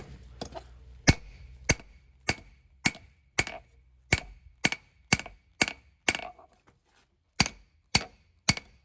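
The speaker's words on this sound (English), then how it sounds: "thickness where I can start forging in the blade and get a good little axe out of it, or hatchet, tomahawk" Hammer blows ring out on hot steel as a tomahawk blade is forged from an old ball peen hammer: about fifteen sharp, metallic strikes in an uneven rhythm, close and clear, with a short pause before the last few.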